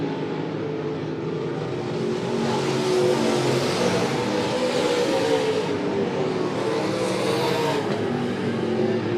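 Dirt track race cars lapping Monett Motor Speedway, a steady loud roar of several engines held throughout with rising and falling pitch as cars pass through traffic, a commentator talking over the noise.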